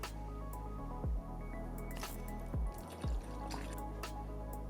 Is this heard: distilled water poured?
yes